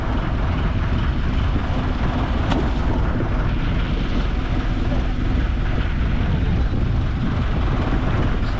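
Strong wind roaring across the deck of a fishing boat in the deep sea, a loud, unbroken broadband rush with engine-like rumble that goes on without a pause.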